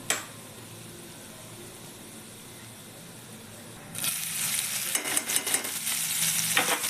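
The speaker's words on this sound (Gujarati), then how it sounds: "થોડુંક જીરું નાખીશું. જીરું તતડે" Cumin seeds and carom seeds hit hot oil with a sudden loud burst of sizzling and crackling, steady and close, after a few seconds of quiet pan hiss, while making jowar methi thepla.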